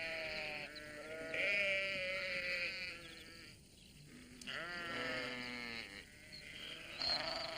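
Sheep bleating in a garden in an animated children's story, several wavering, drawn-out bleats close by over a quiet background with soft music.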